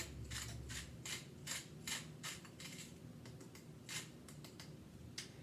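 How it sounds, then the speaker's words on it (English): A hand pepper grinder cracks fresh pepper over turkey meatball mix, giving a run of short, scratchy crunching bursts in an uneven rhythm, close and fairly quiet, with no talking. "some fresh cracked pepper, again to taste"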